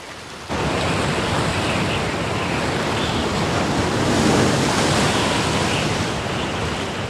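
Sea waves and wind roar continuously at high volume after a sudden start, a dense, steady wash of surf with slight swells in intensity.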